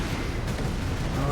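Heavy gunfire rages in the Warhammer 40k: Space Marine video game, a dense, unbroken roar of shots and blasts filling the whole moment at close range.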